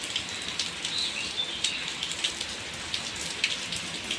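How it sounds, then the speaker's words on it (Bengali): Heavy rain pours down during Cyclone Remal, a steady dense hiss of drops striking surfaces with scattered louder splashes, continuous and fairly close throughout. "এই বৃষ্টির জন্য তো বাইরে নামাই যাচ্ছে না, এতটাই পরিমাণে বৃষ্টি হচ্ছে"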